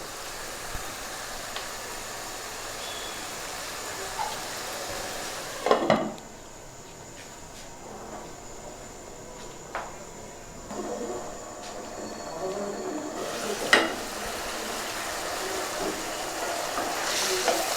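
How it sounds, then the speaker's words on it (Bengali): Cauliflower pieces being sautéed in a pan for a shol fish curry, with a continuous sizzle and a few metallic spatula scrapes and clinks against the pan; no talking. "এইভাবে আমি 2 মিনিট কষাবো।"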